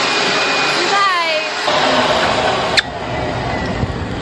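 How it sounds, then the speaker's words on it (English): A high-velocity dog dryer runs with a steady, loud whooshing roar that shifts in pitch partway through and continues without a break. "sometimes the puppies run under the table and turn on the high velocity dryer"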